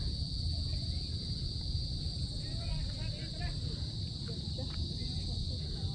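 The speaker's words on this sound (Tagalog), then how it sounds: "humuhuni na rin ang mga kuliglig." Crickets chirp steadily at sunset beside a fishpond, a dense continuous high trill over a low outdoor rumble, with faint voices now and then.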